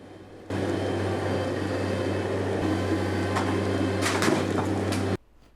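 Bobcat MT100 mini-tank working on interior demolition, a steady mechanical engine drone that starts abruptly, holds for several seconds with a few sharp clattering bursts near the end, then cuts off.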